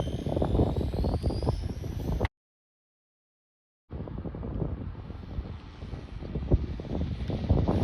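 Traxxas 4Tec RC car on a 2S battery with a Titan 12T brushed motor making a full-throttle speed run outdoors, steady loud motor whine and rushing wind noise, cut by a short gap of silence before resuming.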